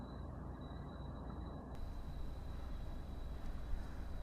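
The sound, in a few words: air conditioner running in a quiet room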